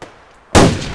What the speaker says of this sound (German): Oh, ich wollte gar nicht schießen.